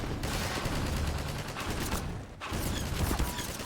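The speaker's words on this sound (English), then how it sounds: "Who's shooting at me?" Gunfire in the video game Half-Life 2: Episode 1, a rapid burst of automatic shots in a dense volley, a brief break, then another volley, loud and close.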